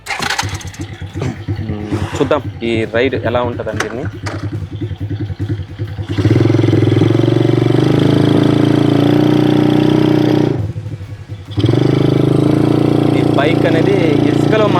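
A tread bike engine for riding on beach sand starts with clattering turnovers at Kalingapatnam Beach, then settles into a loud, steady idle nearby, briefly dropping before resuming; someone talks over the early part.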